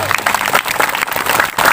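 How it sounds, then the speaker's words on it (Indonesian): An audience at an Isra Mi'raj religious gathering applauds with steady, dense clapping, loud and close, filling the whole moment. "Boleh tepuk tangan buat beliau semua."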